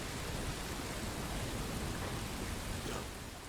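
Steady, dense rain hiss in Call of Duty: Modern Warfare 2 fills the clip, broad and even throughout with no talking, easing slightly near the end.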